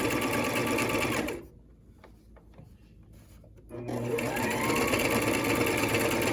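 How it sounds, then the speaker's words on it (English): A sewing machine stitches the hem of an A-line overgarment, running steadily and close, then pausing for about two seconds of near quiet before starting up and whirring on again. "So you just sew it completely until the stitches meet each other back in the beginning."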